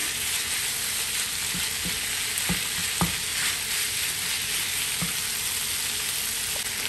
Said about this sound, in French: Voilà, et on viendra remuer notre viande. Et on va attendre qu'elle dore sur nos 2 faces.